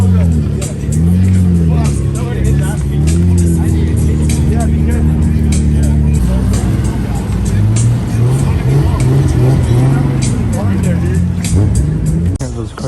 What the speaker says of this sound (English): Those cars that just pulled up.